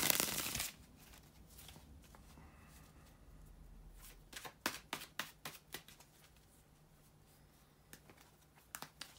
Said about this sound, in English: shuffle the tarot cards